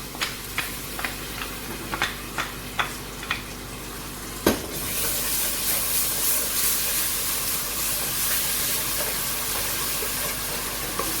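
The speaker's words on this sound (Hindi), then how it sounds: "अभी ये लहसुन अदरक का पेस्ट हम डाल देंगे इसमें।" Garlic ginger paste hits hot oil in a pan for Sindhi chicken biryani: a few light taps and spoon knocks, then a sharp burst into loud, continuous sizzling and hissing that carries on to the end.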